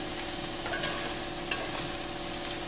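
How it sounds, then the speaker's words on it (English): Sauce-coated venison for cheater Korean beef sizzles steadily in a hot pan while a utensil stirs it. The frying hiss is constant and close, with a faint scrape or clack now and then and no talk. "So I'm going to give it a stir pretty quickly here."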